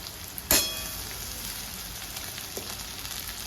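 Onion sautés in a pan for paneer bhurji, a soft, steady sizzle heard close by, with one sharp clink near the start and a faint knock later.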